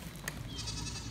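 A goat bleats once in a homestead goat pen, a short wavering call heard close but faint against a busy outdoor background.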